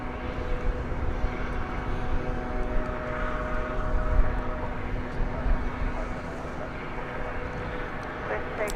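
Airliner bound for Ontario, California lifting off from Dallas Fort Worth, a steady distant engine rumble and roar with a faint whine, continuous and moderately loud throughout.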